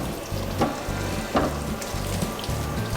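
Crab and prawns frying in a pan: a steady, close sizzle with soft stirring scrapes and a few brief clatters, and no voices.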